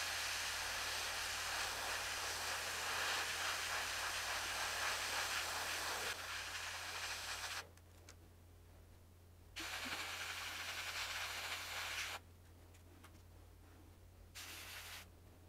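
Fine airbrush spraying XF63 paint on a WW2 fighter cockpit model, a steady soft hiss in bursts that stop and restart, close and fairly quiet, with no talk.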